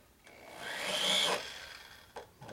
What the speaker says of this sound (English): That's why we have variable speed trigger on our drill here.